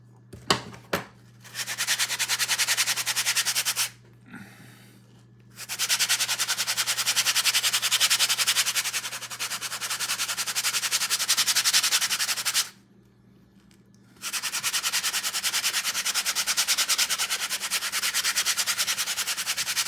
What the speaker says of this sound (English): maybe it's time for the sanding paper